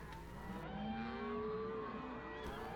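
Cattle in a working ranch pen on branding day let out a long, drawn-out moo that rises and falls, clear and fairly close over steady outdoor background noise.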